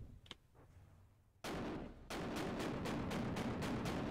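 Simple anti-aircraft guns firing in the From The Depths video game: a sudden loud onset, then a rapid rhythmic series of sharp repeated shots, close and powerful, after a quieter lead-in.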